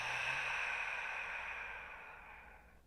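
A single slow, deep exhale during a relaxed morning yoga flow, audible close up as a soft breathy whoosh that fades out over about three seconds.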